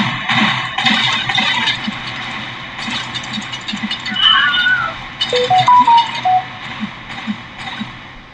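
A mobile phone goes off with a short run of stepped electronic tones partway through, over steady, busy background sound.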